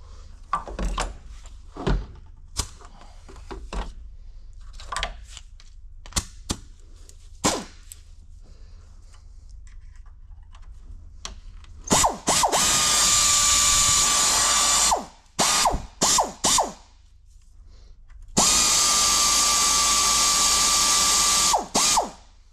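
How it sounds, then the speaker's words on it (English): Bursts from a pneumatic air ratchet spinning a fastener off, two long sustained whirring runs of about three seconds each, loud and close, with short blips and clicks of the tool between them. "air ratchet. Kind of get this moving along a little quicker."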